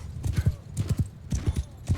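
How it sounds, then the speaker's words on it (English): Hooves of a horse at full gallop in the video game Mount & Blade II Bannerlord pound in a rapid, rhythmic clip-clop, close and steady, with a faint neigh and a voice talking at moments. "on with the horse at full gallop"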